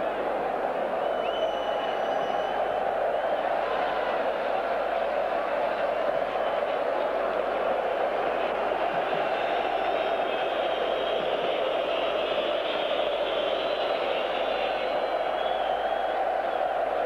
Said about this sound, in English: Capacity crowd here at the Parken Stadium in Copenhagen